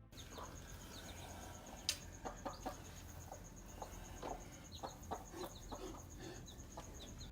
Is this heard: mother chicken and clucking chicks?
yes